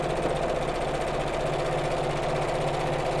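A domestic sewing machine runs steadily, stitching a straight seam along the edges of fabric for a small biscornu pouch, its motor giving a continuous even hum and rapid needle rattle throughout with no talk.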